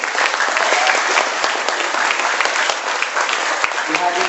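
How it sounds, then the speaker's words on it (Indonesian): An audience at an indoor presentation applauds for Ibu Esther with steady, dense clapping that carries on throughout, and a voice can be heard over it. "Beri aplaus dong buat Ibu Esther."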